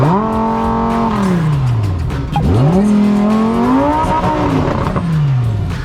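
Lamborghini supercars set off on a road trip from Chiang Mai to Pai, engines revving loudly up and down in sweeping whines, with a brief tire squeal as they pull away close by.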